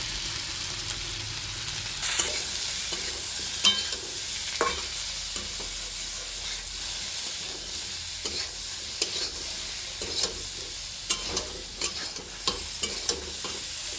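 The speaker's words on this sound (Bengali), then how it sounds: "ভালো করে মশলাটা দিয়ে ভেজে নেব।" Salt, turmeric, chilli, cumin and coriander powders frying in a pan for an egg and paneer curry, a steady soft sizzle broken by repeated scraping strokes of a spoon stirring, close and with no talking.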